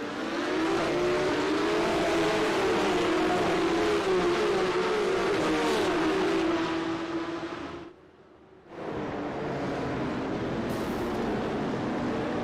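Porsche Cup race cars roar off the start of a video-game race in Austria, a dense sustained engine drone with rising revs that briefly cuts out before resuming.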